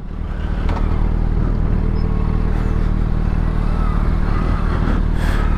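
A Suzuki B-King 1340cc motorcycle engine runs loud and close with a deep, steady rumbling roar throughout.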